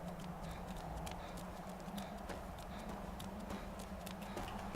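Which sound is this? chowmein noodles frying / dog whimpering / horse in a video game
horse in a video game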